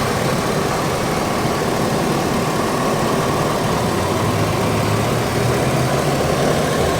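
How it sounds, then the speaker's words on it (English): A Hummer H2's engine idles steadily, a low, even rumble running unbroken and fairly close throughout with no talking over it. "So there's your motor, not too bad"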